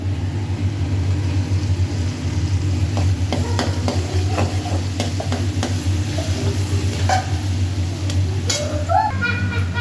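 Food fries steadily in a pan while vegetables are cooked for fried rice and paneer, a continuous sizzle under a low hum, with scattered clinks and stirring scrapes of a utensil.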